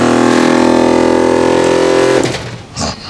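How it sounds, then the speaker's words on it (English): An air compressor mounted on a GWM Cannon P Series ute runs with a loud, steady droning motor hum that drops away near the end, leaving a brief rattle. "So that's our air compressor."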